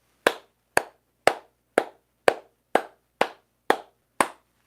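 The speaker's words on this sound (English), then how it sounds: "I'm going to clap a beat" Nine evenly spaced hand claps keep a steady beat at about one per half second, each sharp and unaccented, close and clear against silence.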